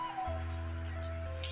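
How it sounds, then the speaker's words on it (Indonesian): Heavy rain falling in a village among rice fields in Sukabumi, West Java, a soft, even wash of raindrops on surfaces with a low steady hum running underneath, no talking. "semakin hujan deras, semakin dingin terasa"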